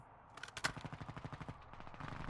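Rapid bursts of gunfire rattle off in a fast, even rhythm, a string of sharp cracks from Call of Duty Warzone DMZ, fairly quiet overall.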